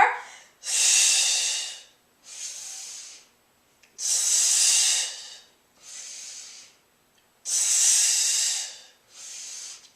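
Forceful breaths in and out through the nose and mouth during a Pilates workout, loud close hissing bursts in a regular pattern of long inhales alternating with shorter exhales, no talk.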